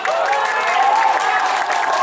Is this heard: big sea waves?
no